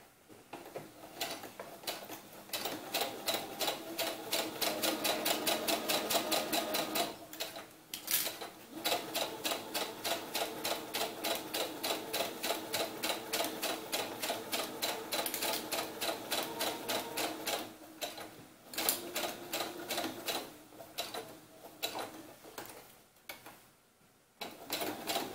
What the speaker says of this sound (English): I'm going to go back to middle needle position, and I'm going to top stitch all around this